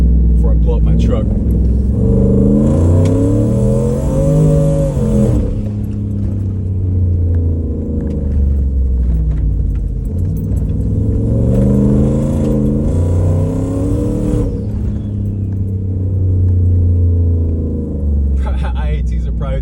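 Ford F150 FX4 pickup with an ON3 single turbo, engine rumbling and revving hard in two long acceleration pulls, with turbo whine rising each time, heard from inside the cab with a voice speaking over it.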